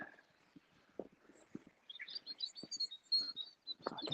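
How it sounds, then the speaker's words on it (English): Birds chirp and sing outdoors on a hillside, thin high calls coming in short bursts from a moderate distance, with faint low rustles and knocks underneath. "I can hear some nice birds over there."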